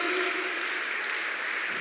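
A church congregation applauding during a Spanish-language evangelical service, a steady wash of clapping that holds at an even level throughout with no voices on top.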